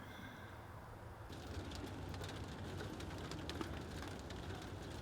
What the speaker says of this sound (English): with it raining and more rain to come in the next day or two